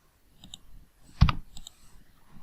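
Mouse clicks come while drawing in After Effects: a sharp, close double click stands out between a few fainter, lighter clicks in an otherwise quiet room.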